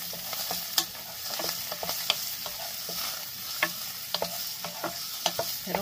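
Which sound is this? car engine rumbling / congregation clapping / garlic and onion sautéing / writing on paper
garlic and onion sautéing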